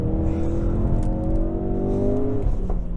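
A 2016 Ford Focus RS engine in drift mode revs up under acceleration, a close, loud, rising drone with steady tonal pitch climbing over a few seconds before easing off.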